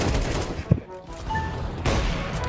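Rapid gunfire from Counter-Strike 2, bursts of shots fairly faint under game sounds, with a brief louder crack.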